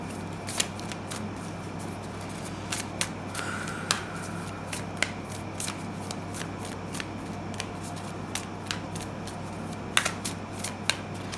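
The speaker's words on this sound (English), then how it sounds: "I'm going to shuffle 2 more times" Tarot cards being shuffled alone, soft riffling broken by scattered sharp flicks and snaps at an uneven pace.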